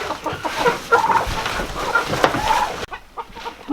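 Several chickens in a winter chicken run cluck and squawk continuously up close, busy overlapping calls that quiet down briefly near the end.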